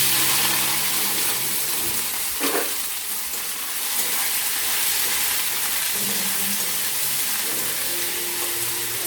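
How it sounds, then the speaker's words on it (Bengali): Chopped onions fry in hot oil for chicken kosha, a steady close sizzle with occasional stirring scrapes and a brief louder clatter early on. "পেঁয়াজটাকে লাল লাল করে ভাজা হয়ে গেছে"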